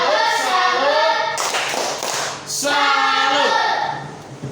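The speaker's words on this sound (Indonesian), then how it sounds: "Tepuk salut buat Vino." A school class claps a rhythmic salute for a classmate, Vino, in steady close-up beats mixed with children's voices chanting in unison.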